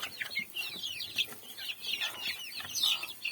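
A fluffy white rooster clucks and chatters in quick, repeated bursts, fairly close, with no voices over it.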